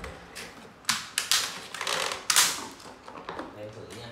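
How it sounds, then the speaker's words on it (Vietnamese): The power cord of a Panasonic vacuum cleaner reels back into the body in a quick rattling burst of clicks and clatters, close and fairly loud. "Thu dây lại này."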